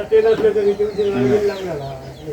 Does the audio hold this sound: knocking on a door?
no